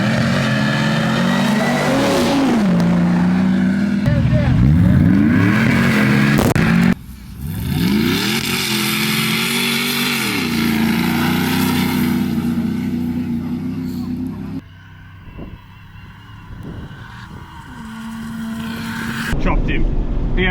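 Drag race cars at the Kincrome Invitational rev and accelerate loudly in long, rising engine sweeps, one run cutting off abruptly midway before quieter revving returns, with voices talking over the noise.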